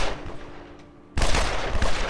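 Soldiers open fire in the villain-lair strategy game Evil Genius, a sudden loud burst of rapid gunshots that cuts in after a quiet stretch and keeps crackling densely until the end.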